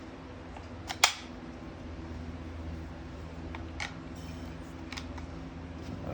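A Central Pneumatic 18 gauge 2-in-1 air nailer and stapler firing nails: one sharp, loud snap near the start, then a few fainter clicks spaced apart over a quiet background.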